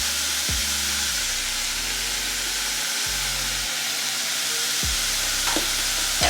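Food frying in a pan on a home stove, seasoned with pepper, garlic powder and onion powder, being stirred; steady close sizzle with a few scraping stirs, no talking.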